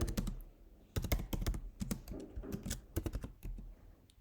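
Code being typed on a computer keyboard, quick bursts of crisp close key clicks separated by short pauses, no speech.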